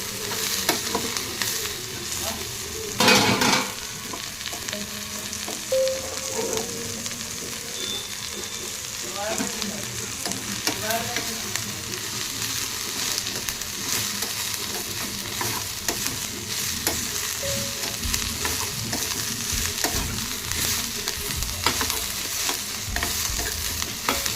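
Ingredients for Hyderabadi-style fish curry fry and sizzle in a pan, a steady crackling hiss with occasional stirring scrapes and one sharp clatter near the start, close and continuous without talk.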